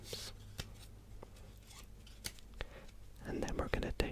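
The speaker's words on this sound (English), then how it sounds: "We're going to cut the pack a few times." A deck of playing cards is cut by hand several times during a close-miked card trick, giving soft scattered card snaps and slides, then a denser shuffling rustle near the end, with quiet whispery speech.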